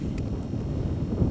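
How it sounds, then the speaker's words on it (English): Wind blowing across a frozen lake during an ice fishing competition, a steady low rumbling buffet against the microphone with no clear voices. "So a little windy, but it's all right."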